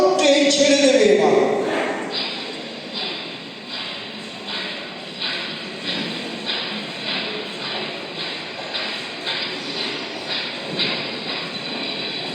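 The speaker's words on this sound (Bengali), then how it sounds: "চলো চলো, ট্রেনে উঠে পড়ো, ট্রেন ছেড়ে দেবে এবার।" A train departs in a radio drama, with voices calling out briefly at the start, then a loud whistle-like tone and the steady rhythmic clatter of wheels on rails as the train rolls away.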